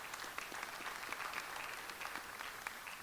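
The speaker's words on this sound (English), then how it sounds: "Can we give her a round of applause as well?" A town hall meeting audience gives a round of applause for Councilwoman Dr. Nina Ahmad, a faint, even patter of clapping heard from some distance, with no voices over it.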